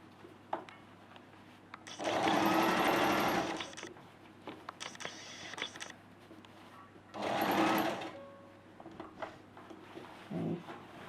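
A sewing machine stitching a sleeve seam on a dress, two loud close bursts of fast whirring stitching separated by quieter handling noises and small clicks.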